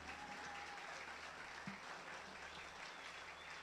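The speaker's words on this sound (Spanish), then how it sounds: "Yo quiero que la iglesia pueda darle un aplauso a cada uno de esos padres" A church congregation claps for the fathers in attendance, a steady, dense wash of applause from a large crowd that holds evenly for the whole stretch with no voices rising above it.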